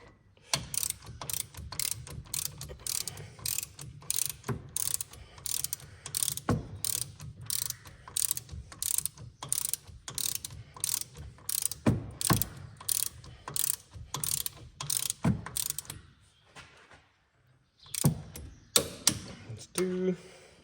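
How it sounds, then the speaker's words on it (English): Ratchet wrench tightening wheel nuts on a Land Rover Defender in a star pattern: dense rapid clicking bursts, close and loud, repeating for most of the stretch, pausing briefly near the end before a few more clicks. "It's very important that you tighten these up in a star pattern"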